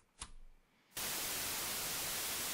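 A small television in a point-and-click game room hisses into loud, steady white-noise static after a brief soft sound, filling the rest of the moment with an even, unbroken wash.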